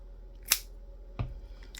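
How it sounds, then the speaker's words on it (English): Scissors snip through yarn tassel strings in three crisp, separate cuts spaced apart, close and clear in an otherwise quiet room. "I'm just going to cut it all so that it's nice and even"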